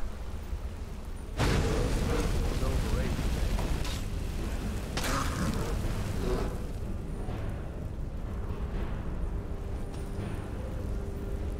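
A fire spell in the Skyrim video game is cast at a bear and erupts in a sudden roaring whoosh of flame. It keeps up a dense, crackling burn with a few flaring bursts, loud and close.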